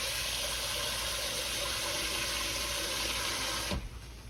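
A steady, loud rush of water pouring close by into a pot for several seconds, then cutting off abruptly.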